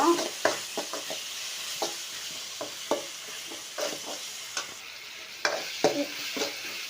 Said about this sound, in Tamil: இது கூடவே கொஞ்சம் மஞ்சள் தூள் போட்டுக்கலாம் போட்டு நல்லா கிண்டி எடுக்கணும்